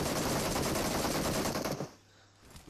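Rapid automatic gunfire in PUBG on the Erangal map rattles in a fast, continuous burst for nearly two seconds, then cuts off into near silence.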